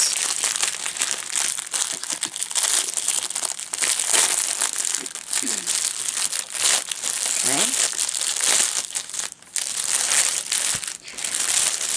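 Small individual plastic baggies from a diamond painting kit crinkle and rustle close up as they are handled, producing steady, busy crackling throughout with brief quieter gaps and a voice talking faintly underneath.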